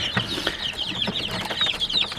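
Chickens and chicks on a farm, with repeated high peeping and clucking calls over a busy flock, fairly close and continuous, with a few lower clucks mixed in.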